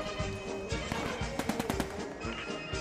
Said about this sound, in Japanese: 銃声的にこっちか。